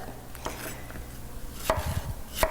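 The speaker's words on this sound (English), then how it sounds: "So nice thin strips of our beautiful peppers" A knife slices peppers into thin strips on a cutting board, giving a few sharp, close chopping taps spaced irregularly over a faint background hum.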